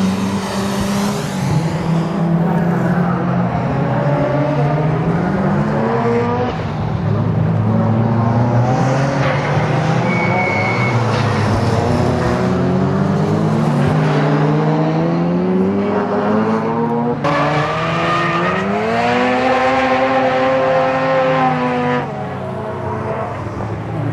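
Amateur Silhouette GT class race cars lapping the Honjo circuit in a grassroots club race, engines droning and revving as several cars pass in overlapping sweeps, rising and falling in pitch with continuous, steady loudness.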